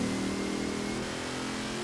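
A modified car in Forza Horizon 4, likely no longer on its stock engine, holds a steady, loud mid-pitched engine drone with a slight rising strain as it revs, continuous throughout with no talk.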